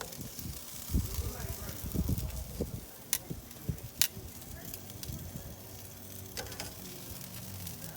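Ribs sizzling on a Char-Griller Smokin' Champ smoker grill, a close crackling hiss with scattered pops and metallic knocks as the meat is moved, someone speaking over it.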